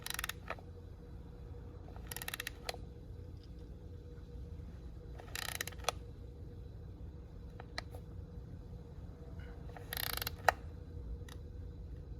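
Ratchet wrench turning the transmission drain plug on a Ford Fusion, a few short bursts of metallic clicking separated by pauses, close up over a low steady hum, with no talking.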